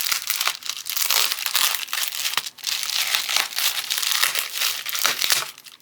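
A thick tape wrapper on a gel pen package is pulled open up close, giving continuous loud crinkling and crackling with brief tearing bursts and a short pause partway through.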